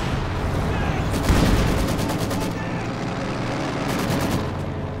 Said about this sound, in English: Mortar fire and other goodies.